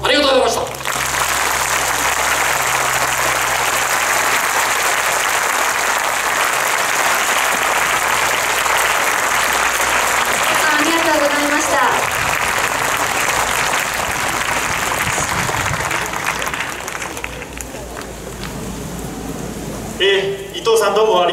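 A large audience at a constitution rally in Kyoto applauds in a long, loud, dense wave of clapping that fades near the end as a voice returns.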